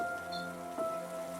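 Steady rain falls at night, a soft, even patter beneath faint steady hums.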